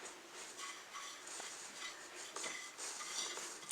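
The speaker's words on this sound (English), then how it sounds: "So I've just mixed that salt, that Maldon salt, into this flour." Maldon salt is stirred into flour in a bowl while preparing focaccia dough, producing soft scraping and light clinking of a utensil against the bowl, quiet and without talk.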